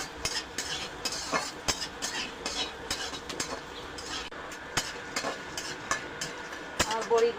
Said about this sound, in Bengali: বড়িগুলো ভাজা করে নেব।